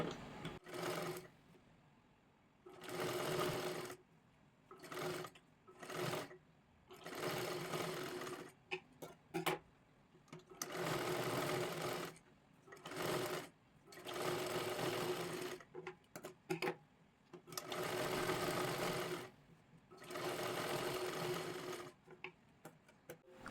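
A sewing machine stitches a princess blouse in repeated bursts of fast, whirring needle runs separated by brief pauses and small clicks, close and clear with no talking.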